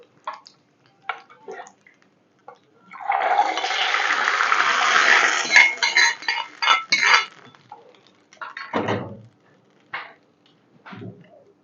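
A loud hissing sizzle as hot oil tempering is poured into a pot of tomato rasam, lasting a few seconds with light clinks of utensils before and after.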